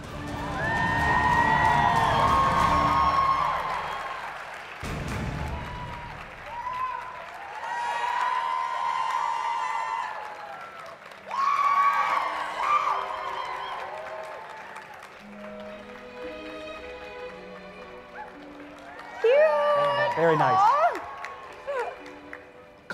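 A convention crowd at a winter cosplay championship claps and cheers for a Tinkerbell contestant in bursts, mixed with loud stage music, while a host speaks briefly.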